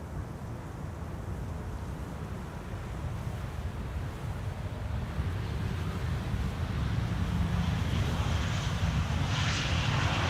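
A Transavia airliner landing at Schiphol after a flight from Barcelona brings a broad wind-blown jet roar that grows steadily louder and closer toward the end.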